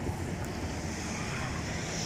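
Heavy rainwater flows as a stream in the desert surroundings of Medina after a downpour, a continuous broadband rushing wash with wind buffeting the microphone, no speech.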